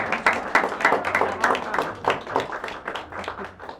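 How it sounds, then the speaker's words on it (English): A small crowd at an arts center anniversary reception gives volunteers and staff a brief round of applause: a short, moderately loud patter of scattered hand claps with a few louder individual claps, fading out quickly. "why don't you raise your hand so we can give you all a round of applause"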